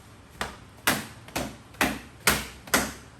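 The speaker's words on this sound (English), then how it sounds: "I'm making a sound by hitting the table using the towel," Six sharp slaps of a towel hitting a table land at a steady, slightly uneven rhythm, each a crisp close thwack with a short decay in a quiet room.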